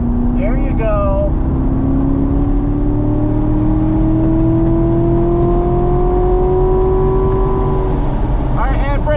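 A race car pulls hard out of a corner at Burt Brothers Motorpark's East Track, its engine note climbing steadily and loud throughout under constant wind roar, with an instructor's voice coaching over it.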